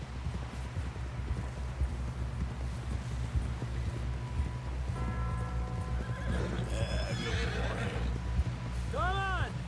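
Horse galloping in Red Dead Redemption 2, with a steady rhythm of hoofbeats under background game audio and voices, followed by loud, near whinnies toward the end.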